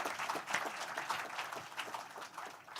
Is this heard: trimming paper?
no